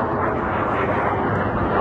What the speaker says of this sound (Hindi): ऐसे फाइटर जेट ना उड़ते रहते हैं अंबाला एयरबेस के